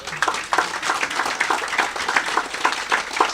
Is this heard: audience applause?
yes